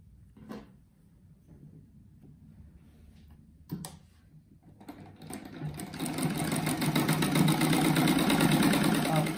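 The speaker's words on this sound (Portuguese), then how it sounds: "Agora eu vou costurar assim, esses oito quadros aqui." A sewing machine stitches fabric quilt squares for a star rug, starting with a few faint handling sounds before the motor whirs into a fast, steady rattling run that grows louder and continues to the end.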